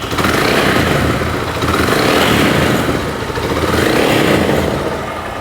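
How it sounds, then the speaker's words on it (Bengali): A generic cafe racer motorcycle engine idles loudly nearby, a rough, continuous throbbing rumble with slight swells in volume and no voices over it. "এবার চেষ্টা করব বাইকটা স্টার্ট করে আপনাদেরকে সাউন্ড শোনানোর।"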